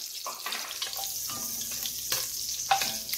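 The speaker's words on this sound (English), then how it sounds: "in the hot oil, I'm going to add my garlic" Garlic fries in hot oil with a lively crackling sizzle, punctuated by several louder spits and scrapes as it is stirred in the pan, close up and without talk.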